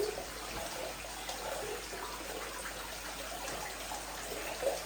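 Water flows steadily over the waterfall spillway of a 500-gallon pool pond stocked with tropical fish, a soft, continuous splashing trickle that stays even and fairly faint throughout.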